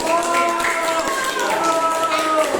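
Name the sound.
clapping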